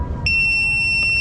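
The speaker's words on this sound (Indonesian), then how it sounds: "Ini ada namanya buzzer eksternal dan tombolnya ada di sini." An external buzzer on an FPV drone, a Speedybee Mario5 XH with DJI O4 Pro, sounds a loud, steady, piercing electronic tone close up after a short quiet start.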